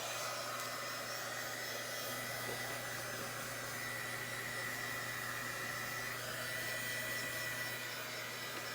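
A hair dryer blows steadily on a vintage VW craft project, producing a constant loud whooshing drone with no breaks.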